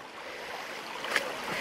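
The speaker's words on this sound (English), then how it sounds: "I've already had to cross several streams." Fast-flowing countryside stream on an autumn walk through combes, a soft continuous rush and trickle of water heard fairly faint, with a brief brighter splash near the end.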